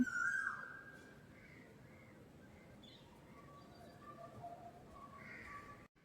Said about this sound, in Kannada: ಕೋಗಿಲೆ ಕುಹು ಕುಹು ಕೂಗ್ತಾ ಇದ್ದೆ ನೋಡಿ